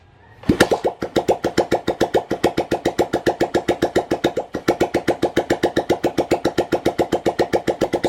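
A Yamaha SZR motorcycle engine, rebuilt after crankshaft trouble with new bearings, is kick-started with a low battery and catches at once, then settles into a steady, even, rapid putt-putt idle close by.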